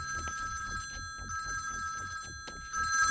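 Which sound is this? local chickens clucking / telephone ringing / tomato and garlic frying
telephone ringing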